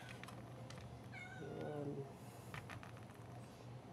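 Several pet cats meow repeatedly while they wait to be fed, their overlapping cries fairly close but soft, with a person's voice briefly joining in.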